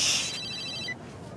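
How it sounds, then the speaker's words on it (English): A mobile phone rings with a bright, repeating electronic ringtone, loud and close for about a second before cutting off, with faint room noise after. "Hello, George Shuttleworth's phone."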